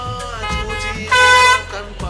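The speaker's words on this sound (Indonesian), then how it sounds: "Kupingku belajar kebal sama suara klakson yang gak ada berhentinya" Horns blare through New Delhi traffic: short honks early on, then a loud sustained container truck horn blast, with engine rumble underneath.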